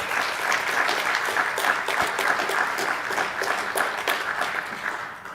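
Warm audience applause at a university student and staff awards ceremony, a steady even wash of many hands clapping throughout, with no voices over it.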